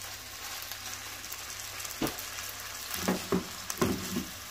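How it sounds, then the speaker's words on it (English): Buffalo burgers sizzle in a hot frying pan with a steady crackling hiss, broken by a few louder bursts as pieces are set down. "the first thing we've got to do is get them in frying pan"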